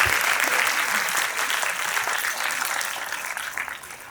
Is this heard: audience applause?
yes